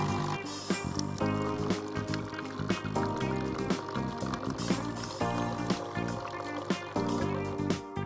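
Water pours and trickles steadily from a NESCAFÉ Dolce Gusto Lumio coffee machine into a container during descaling rinse, with gurgling and splashing over a low mechanical hum.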